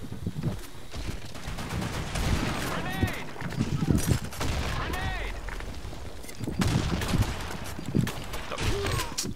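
Rapid shotgun and gunfire bursts in a competitive Blackshot capture-the-flag match, dense repeated blasts running throughout under voices talking.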